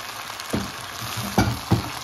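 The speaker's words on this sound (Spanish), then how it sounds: "vamos a ponerle las rajas de los chiles" Chile strips frying with softened onion in a pan give a steady, close sizzle, broken by a few soft knocks and scrapes of stirring. No voices.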